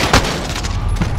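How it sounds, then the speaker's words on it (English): Rapid bursts of gunfire in Call of Duty online multiplayer, with sharp close shots punctuating a continuous dense firefight for about a second. "Stop shooting at me!"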